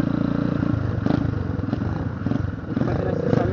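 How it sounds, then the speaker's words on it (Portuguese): A motorcycle engine idling and running nearby, a steady low throb with uneven pulsing, with some voices and clatter mixed in. "Estamos experimentando as motocas"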